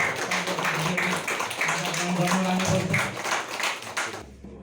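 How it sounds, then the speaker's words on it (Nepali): An audience claps at a calendar launch event held by a Magar community organisation in Nepal, with dense sustained applause that runs for several seconds and then cuts off, and faint voices mixed in. "जोरदार ताली बजिरहोस्"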